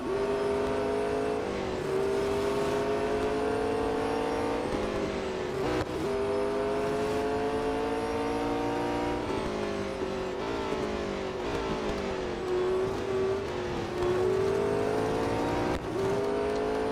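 Race cars in the Real Racing 3 video game scream at full throttle, engine pitch climbing through each gear and dropping sharply at every shift, loud and continuous with tyre noise underneath.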